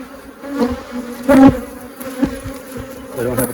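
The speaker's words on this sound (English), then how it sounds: "A couple thousand bees or so." Honey bees hum and buzz steadily around a brood frame lifted out during a hive split, with the sound swelling and rising in a few close passes over a continuous drone.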